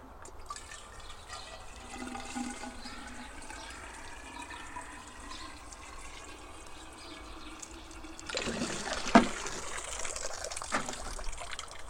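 Water is poured into a hand pump with a new leather seal to prime it, a faint trickle and gurgle that swells into a louder splashing pour near the end, with no talk.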